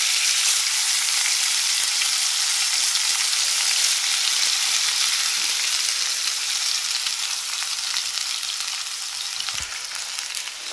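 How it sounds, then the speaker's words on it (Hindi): Chicken and mushrooms sautéing in a kadhai, a loud, continuous hissing sizzle that holds steady and eases slightly toward the end, with one brief knock. "इसको हम थोड़ा सा सॉटे कर लेंगे।"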